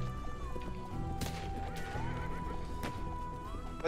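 Horse neighing with a few clattering hoof impacts, a sound effect played during a Western-themed tabletop role-play session; a long whinny carries steadily through the clip over a low background murmur.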